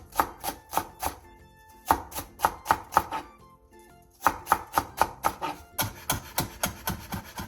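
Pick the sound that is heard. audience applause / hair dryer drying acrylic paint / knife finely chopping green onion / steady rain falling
knife finely chopping green onion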